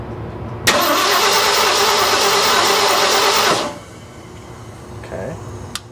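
A 1970 Ford engine cranks loudly and steadily for about three seconds with a fast rhythmic churn, then drops off without catching, leaving a quiet background.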